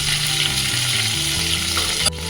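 Ground spices fry loudly in a pan for a Bengali katla fish curry, a dense continuous sizzle with a brief scrape near the end, no voices present.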